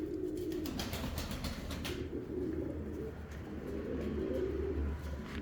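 Uzbek chil pigeons coo in repeated low, throaty phrases close by, steady over a soft background hum with faint chirps.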